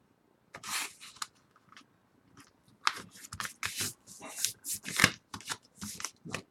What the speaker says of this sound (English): Just fold it over again.